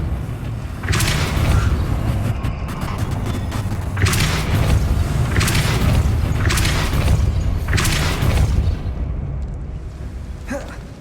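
Repeated Depulso spell blasts in Hogwarts Legacy, several loud booming whooshes about a second or two apart over a constant rumbling background, with a spoken voice present.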